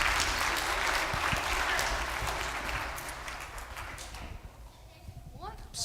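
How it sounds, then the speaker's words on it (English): Audience applause after a call for a round for a team at an Easter jam event, a broad dense clatter of clapping that gradually fades over several seconds. "Guys, give them a round of applause."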